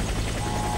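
A helicopter in the military shooter video game Warface gives a short, dense burst of steady rotor and engine roar, loud and continuous throughout with no talk over it.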